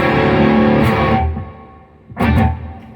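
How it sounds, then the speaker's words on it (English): A distorted electric guitar chord rings out and fades into a wide, lingering wash, then another strummed chord blooms with the same spacious tail. "it's just a really wide reverb"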